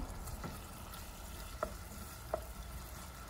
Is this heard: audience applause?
no